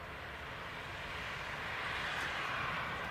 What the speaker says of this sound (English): Is that that's the ATR that done the go around?